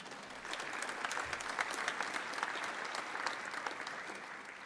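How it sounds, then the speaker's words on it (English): Steady applause from a seated audience at a business association's annual lunch, dense continuous clapping at a moderate distance with no voices over it. "Yes, please, applause."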